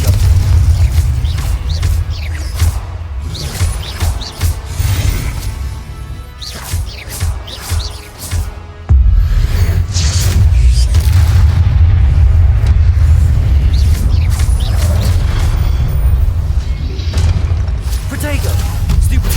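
Spell explosions boom and crash repeatedly in Hogwarts Legacy combat, heavy bursts layered over a dense, loud game soundtrack with spoken voices mixed in.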